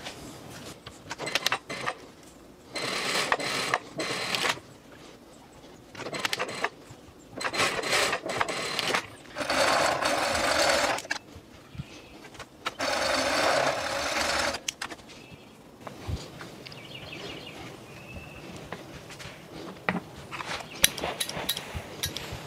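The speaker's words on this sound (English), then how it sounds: "I'm just gonna sew this at 1/2 inch and then finish the raw edge with a serge." A sewing machine stitches a half-inch shoulder seam on a shirt, its motor running in several steady bursts of a few seconds each with short pauses and handling sounds between them.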